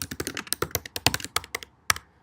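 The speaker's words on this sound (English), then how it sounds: "I type in the new correct answer. I type my new wrong answer," Typing on a computer keyboard while entering quiz answers into a form, a brisk, uneven run of crisp key clicks and taps, close and clear, with no voices over it.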